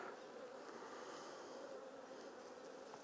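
Bees drone in a steady, soft, continuous buzz while clustered on an empty hive frame, the hum faint and unbroken with no voices.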